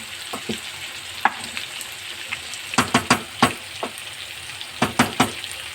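Potatoes sizzling in a pot while being stirred, with a low frying hiss broken by sharp scraping clinks and knocks from the spoon in irregular bursts, close and clear with no voices.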